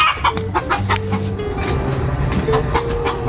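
A stray chicken clucks in short, close bursts inside a lot, with faint background noise and no talk.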